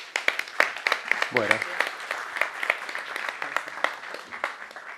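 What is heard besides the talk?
audience applause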